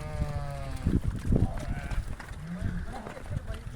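Sheep penned together in a snowy village bleat a few times near the start, the short wavering calls mixed with a person talking and shuffling livestock noise.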